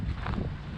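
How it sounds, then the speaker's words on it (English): Gusty outdoor wind buffets the microphone beside a duck pond, a dense low rumble lasting under a second with no voices. "sorry about the wind. Didn't realise it was so windy over here."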